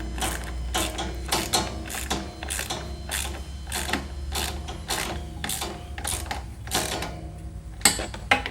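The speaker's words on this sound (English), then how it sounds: "You only need one ratchet." A ratchet wrench with a 10 mm socket tightening bolts on Yamaha Drive golf cart seats, giving a close, steady run of rapid clicking strokes in a regular rhythm with a low mechanical hum beneath.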